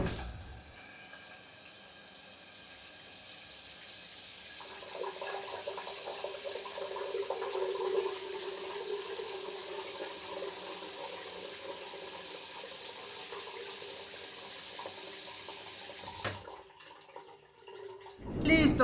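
A Minecraft shower runs as a steady, soft water hiss that swells midway, then cuts off near the end, with a brief voice at the close.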